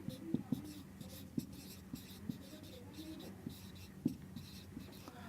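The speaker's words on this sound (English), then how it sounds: "So let me write that down." Pen or pencil strokes on paper as idiom notes are jotted down, a steady run of soft scratching with small taps spread over several seconds, faint and close, with a low room hum underneath.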